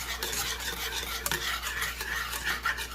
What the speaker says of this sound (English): I'm just going to be whisking this